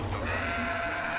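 A goat lets out a single drawn-out bleat, loud and close, filling the short moment on its own.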